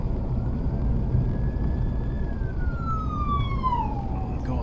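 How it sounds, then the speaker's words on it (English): An ambulance siren passes on a street, a faint rising and falling wail that drops in pitch as it moves away, over steady traffic rumble. "Going ambulance, hope everything's all right."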